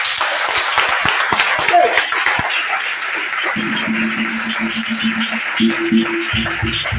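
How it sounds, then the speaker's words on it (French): A church congregation claps in praise, a dense wash of applause that gives way to softer scattered claps and a sustained low tone near the end. "Donnez l'acclamation au Seigneur Jésus."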